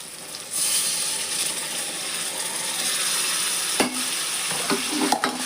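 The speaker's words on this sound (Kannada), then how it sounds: "ಈಗ ನಾನು ಅಕ್ಕಿ ತೊಳೆದಿಟ್ಕೊಂಡಿನಲ್ರಿ, ಇವನ್ನಷ್ಟೇ ಒಗ್ಗರಣೆಗೆ ಹಾಕ್ತೇನೆ ನೋಡ್ರಿ" Washed rice tipped into a sizzling tempering for vegetable pulao and stirred, a steady close frying hiss with scraping spoon strokes and a few clinks near the end, no talking.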